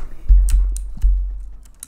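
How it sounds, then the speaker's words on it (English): A loud computer keyboard clacks during an online esports match, a handful of heavy, close keystrokes in an irregular burst with deep thumps, no talk. "I forgot my keyboard's so loud."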